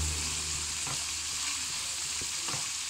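Dinner ingredients with basil leaves frying and sizzling steadily in a pan, with a few soft scraping stirs breaking through the constant hiss.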